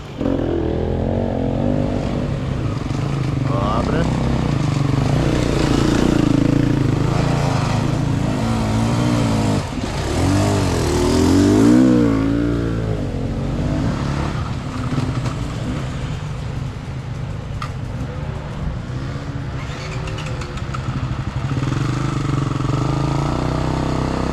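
An enduro motorcycle engine runs steadily while riding off-road through brush in the Beskid mountains, a loud continuous drone with shifting revs and rough wind or terrain noise throughout.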